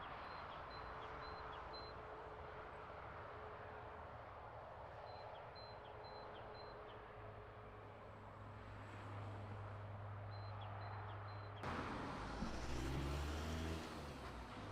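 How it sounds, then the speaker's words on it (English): Cars and lorries pass along a road below a hillside lookout, a faint, distant rumble of traffic with engine drones that swell and fade. The traffic grows slightly louder near the end. "Traffic, those cars, those lorries"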